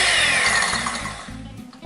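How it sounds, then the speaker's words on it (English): Egg whites are whisked with an electric mixer, a short burst of buzzing motor whir with rhythmic pulsing beats, fairly close and alone, fading slightly toward the end. "get the egg whites whisked up until they're nice and white and fluffy"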